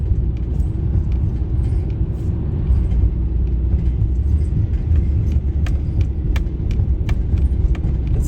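A car drives at night toward a bright full moon, giving a steady, close interior road rumble with engine hum and faint light rattles throughout, and no one speaking.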